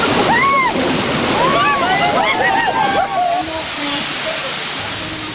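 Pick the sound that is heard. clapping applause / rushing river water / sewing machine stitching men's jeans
rushing river water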